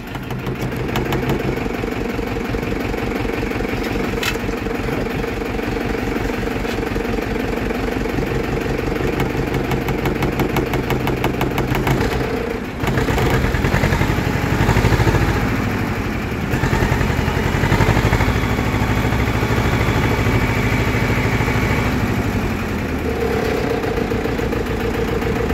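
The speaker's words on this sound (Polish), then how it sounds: "Motor się grzeje." Tractor engine warming up and idling with a steady low chugging rumble, close and loud throughout, with a brief dip and some shifts in tone partway through.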